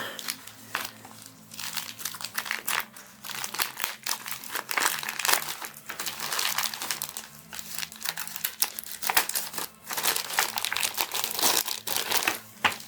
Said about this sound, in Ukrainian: зараз я беру ножиці і поїхали